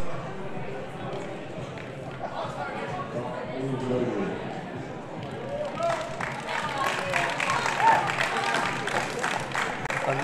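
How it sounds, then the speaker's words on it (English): Spectators at a university powerlifting meet cheer and clap steadily throughout, the noise swelling louder toward the end, with a commentator talking over the crowd. "A lot of support from the crowd here."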